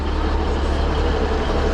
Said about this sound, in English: So we'll see this train go out and then go from there.